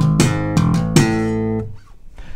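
Electric bass slapped and popped through the fourth bar of a song, a hammer-on from E leading into punchy percussive notes, then the riff stops and a faint tail remains; played alone, close and loud.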